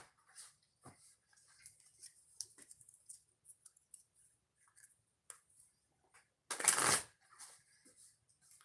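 Oracle cards shuffled by hand: soft, scattered riffles and light clicks, then one loud close burst as the deck is pushed together, with quieter shuffling after. Nearby, no talking.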